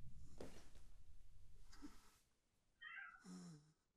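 A cat meows in the horror video game Mouthwashing, a couple of clear, close meows after a stretch of murky low ambient rumble and a brief faint noise.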